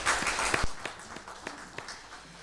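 A church congregation at a Holy Week evening service claps together in praise, a brief burst of mixed handclaps that thins out into scattered claps.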